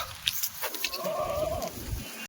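A Kathiawari goat bleats in a wavering cry close by, with rustling and shuffling of other goats around it.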